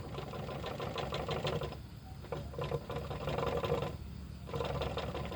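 A Honda Wave 125 motorcycle engine turns over slowly with a steady mechanical chatter, rising and dropping in bursts, fairly quiet and close by.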